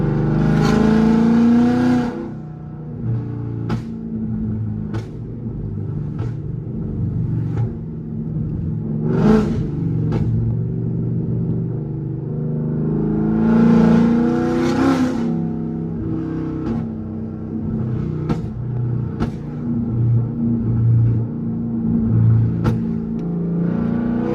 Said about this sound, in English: This has gotta sound crazy outside of the car.